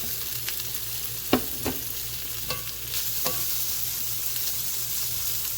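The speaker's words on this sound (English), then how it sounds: "And just stir fry." Sliced beef wieners stir-fried in a pan: a constant sizzle broken by several sharp spatula taps and scrapes against the pan, close and clear.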